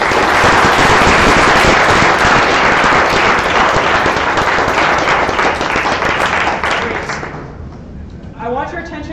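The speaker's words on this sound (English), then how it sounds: "Please join me in another round of applause for thanking Emily." Loud, dense applause from a museum live-event audience, sustained for about seven seconds before tapering off, followed by a speaker beginning to talk.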